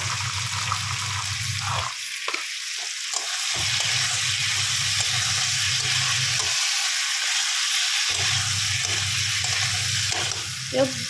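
Pointed gourd, potato and cauliflower frying with spices in a pan, a steady loud sizzle throughout with a low humming tone that cuts in and out, close and without talk.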